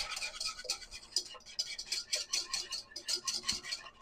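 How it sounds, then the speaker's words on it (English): A seasoned egg mixture is whisked off the heat in quick, rhythmic strokes, a fairly quiet, light clatter of the whisk against the bowl that continues throughout. "I am going to whisk that together"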